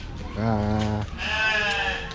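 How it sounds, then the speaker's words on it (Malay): A goat bleating at a zoo, two close, wavering calls in quick succession with a brief gap between them, loud and clear over faint background noise. "Kita lagi tengok kambing"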